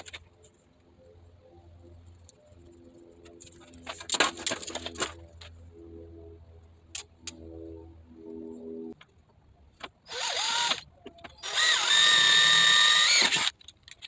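A power drill whirs in short bursts, then runs in two longer, louder spells drilling into a Cub Cadet zero-turn mower part, with quiet clicks and handling noises between.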